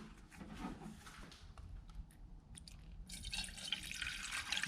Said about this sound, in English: That bubbling is it bleeding itself.